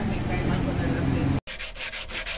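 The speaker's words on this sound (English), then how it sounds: "He is sanding the bull bar" Steady scraping and rubbing of sanding on a metal bull bar of a VW Kombi, close and continuous, briefly cutting out, then resuming with rhythmic strokes.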